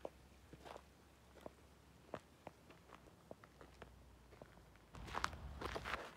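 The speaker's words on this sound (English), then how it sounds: "Yo, I heard footsteps." Footsteps along an old canal path in Ohio, a steady series of separate crunching steps on rough ground that grows louder and busier near the end, with no voices.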